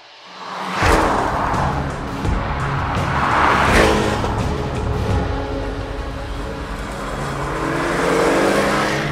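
Onboard engine of a sports car being driven, one of an Audi TT RS, Porsche Cayman four-cylinder or BMW M2 with an M Performance exhaust, a steady loud drone with a few rising revs and gear-change swells, no talk.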